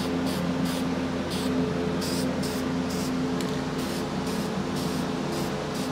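Yamaha 250 MX engine parts being spray painted in short hissing bursts of varying length over a constant steady background hum, close and moderately loud.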